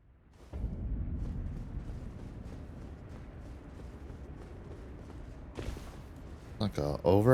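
In the Elden Ring video game, an enemy's ground explosion attack erupts with a deep rumbling boom that rolls on for several seconds, followed by sharper impacts and a player's voice at the end.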